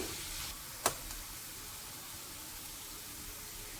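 Sliced onion and split green chillies fry in a pan for an Andhra-style chicken dish, giving a steady hissing sizzle with one sharp clink near the start.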